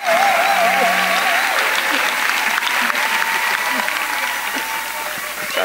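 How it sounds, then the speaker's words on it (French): A congregation at a Christian prayer conference applauds and acclaims, with loud, sustained clapping throughout and a wavering tonal voice or instrument above it early on, fading slightly toward the end. "Offrande d'acclamation à Jésus-Christ"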